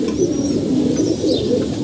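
Pigeons coo in a low, throaty, continuous murmur, fairly close, with a few faint higher chirps above and no talking.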